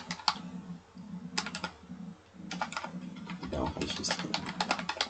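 Typing on a computer keyboard: close, crisp keystroke clicks in quick bursts with short pauses, over a low steady hum.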